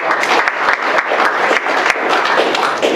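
Crowd at a Veterans Day 2021 ceremony giving a round of applause for an Army specialist veteran, loud, close, dense clapping with distinct sharp claps standing out, sustained without pause.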